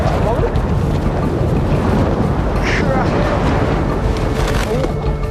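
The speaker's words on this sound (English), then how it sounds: "It's connected to the fierce westerly winds." Fierce westerly gale in Tasmania roaring across the microphone, a loud, constant buffeting rush with no breaks, strong enough to make standing hard.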